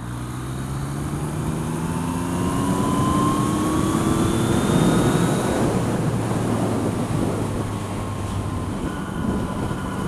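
A Yamaha MT-09 motorcycle accelerates in sixth gear, its engine tone climbing slowly and steadily beneath a heavy, constant rush of wind across the microphone.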